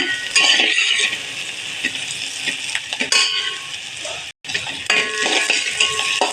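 Onion sautés in a pan on a gas stove, crackling and sizzling continuously while a metal spatula scrapes and clinks against the pan, with a brief pause partway through before the stirring resumes.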